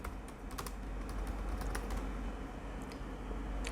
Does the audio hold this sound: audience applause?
no